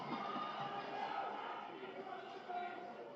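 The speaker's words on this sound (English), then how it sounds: "I think they were saying, where's Hawkeye?" Crowd at a Square Enix E3 2019 trailer event shouting together in a steady, loud, continuous roar of many voices, with no single speaker standing out.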